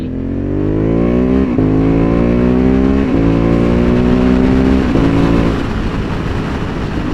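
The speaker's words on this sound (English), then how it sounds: "The bike is very fast." Honda CB750 Hornet motorcycle ridden fast, its engine loud and close as it revs up through several gears, each shift dropping the pitch before it climbs again.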